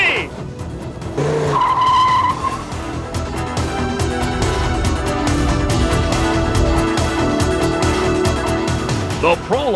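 A Dodge Viper race car driven hard with no engine oil in a desert endurance test, its loud engine roaring continuously for about ten seconds with tire squeals, while a voice talks over it.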